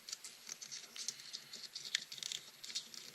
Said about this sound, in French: Je déchire un petit peu plus par ici.